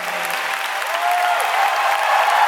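Concert crowd applauds at a Hong Kong Coliseum show, a dense, steady wash of clapping that swells slightly and carries on without break.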